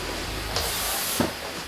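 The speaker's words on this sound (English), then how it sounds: "You can hear the steam that's on here." Steam hissing from a TOPPIN 10 in 1 handheld steam mop, a steady broadband hiss that swells slightly partway through, close and moderately loud with no talking.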